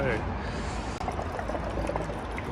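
Injector cleaner poured from a bottle into the fuel tank of a 2002 Audi A4 V6, a steady close liquid gurgle and splash running continuously for a couple of seconds.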